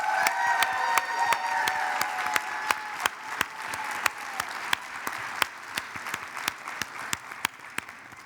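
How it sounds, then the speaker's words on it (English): An audience at the Clinton Global Initiative University 2023 closing plenary gives a big round of applause, full and steady, cut through by loud, evenly spaced sharp claps from one person close by. "round of applause."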